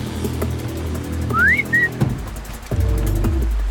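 A short two-part rising whistle from a character in the video game Horizon Zero Dawn, mid-clip and clear over steady low game ambience and a few soft thuds.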